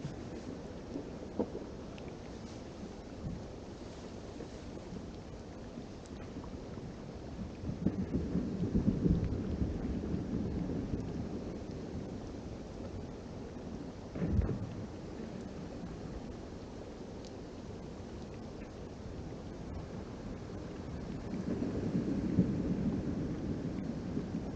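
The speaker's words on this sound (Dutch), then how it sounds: "Het regent daar echt ijs, hè, daar binnen." Ice raining down as hail, a steady hiss of falling pellets with occasional heavier rumbling swells and one sharp thump, heard from indoors at moderate distance.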